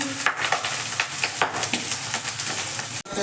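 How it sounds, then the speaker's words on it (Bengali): Fried rice crackling in a pan, with a rapid run of close scraping and tossing strokes over a continuous sizzle, ending in a short sharp knock. "ভাত ভাজা চলছে"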